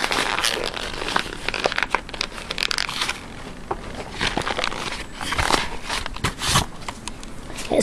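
A sheet of paper is rolled and pressed down by hand, giving irregular bursts of crinkling and crackling at close range, some louder crumples between softer rustles, with no speech.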